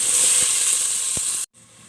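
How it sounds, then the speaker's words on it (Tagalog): Chopped onions browning in butter and olive oil in a pan, a steady bright sizzle that cuts off sharply partway through, leaving a quieter hiss. "Tapos konting butter. Lagay natin ang sauce ng sibuyas. Pag-brown natin ito rin."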